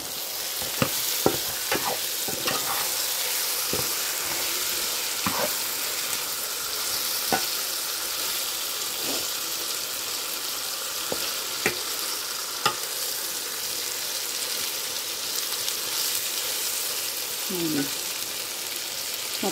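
Masala-marinated fish sizzles and fries in a pan for an Andhra fish curry, a loud steady hiss punctuated by scattered clinks and scrapes of stirring.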